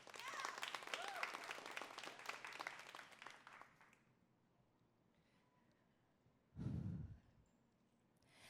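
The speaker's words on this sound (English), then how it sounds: "Yes, you can clap for that." An audience at a Boston poetry reading applauds the introduction of a poem: a brief burst of clapping that fades out after about four seconds, followed by quiet and then a single close, audible breath.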